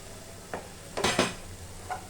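Cooked rice being stirred into a tomato mixture in a pan, with a few soft scraping and clinking strokes of a spoon against the metal, the loudest pair close together midway, over a faint low background.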